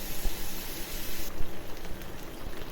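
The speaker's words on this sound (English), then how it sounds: "I'm going to saute the sausages a little and render some of the fat from it." Sausages sizzling in a pot while their fat renders, a steady close crackling hiss with scattered pops, fairly loud and continuous.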